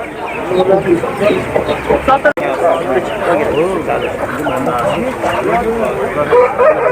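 Roosters and hens cluck and call at a busy poultry market in Kokand, close and constant, mixed with lots of people talking.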